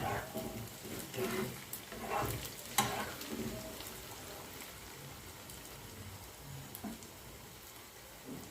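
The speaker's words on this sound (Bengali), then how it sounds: "পেঁয়াজের বেরেস্তাগুলো ভাজা হয়ে গেছে" Sliced onions frying in oil for a Kolkata-style mutton biryani make a soft, crackling sizzle with irregular stirring clatters, fairly faint and close.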